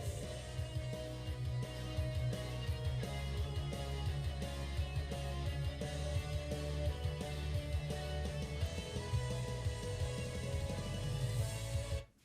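An electric guitar plays the opening part of a solo, a full, dense and steady sound that runs loudly for about twelve seconds before cutting off abruptly.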